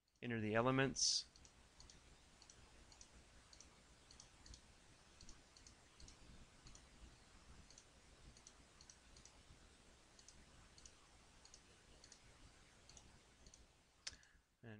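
Buttons pressed on a TI-83/84 graphing calculator, a quiet run of light plastic clicks in an irregular rhythm, with a brief louder sound at the start.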